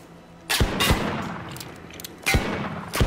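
Several sharp gunshot bursts from a Pirates of the Caribbean play set in the Disney Infinity video game, a pair of loud cracks early, then quieter pops and two more strong blasts near the end over steady game ambience.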